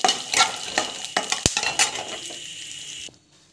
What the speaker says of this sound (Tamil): பருப்பு, கடலைப்பருப்பு நல்லா வதங்கணும்